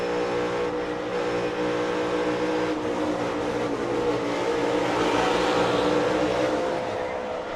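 Denny Hamlin's NASCAR race car roars from onboard, a loud, sustained engine drone that holds its pitch and swells slightly toward the end.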